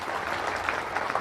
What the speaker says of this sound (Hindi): एक बार जोरदार तालियां केसी छाबड़ा जी के लिए।